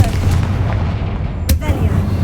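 Booming explosion spells in the Hogwarts Legacy video game, a heavy rumbling blast with a sharp crack near the middle over a continuous low, dense roar.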